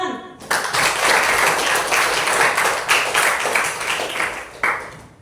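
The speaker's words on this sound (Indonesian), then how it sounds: "mari kita berikan tepuk tangan" Schoolchildren clap together in a classroom, a steady burst of many small hands filling the room for several seconds with brief swells.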